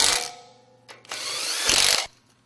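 A power tool whirs in two bursts while bolts fasten stacked masonry blocks in a running bond wall, loud and close with a short pause between runs.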